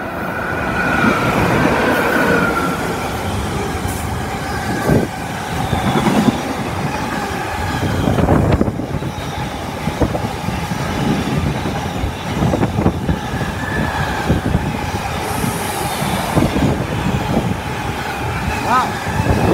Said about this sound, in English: Now passing is a freight train.